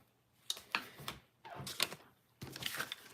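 Cutting a card base for a mixed media craft, three quiet separate strokes of a blade or trimmer sliding and rasping through cardstock, each lasting under a second, close by with near silence between.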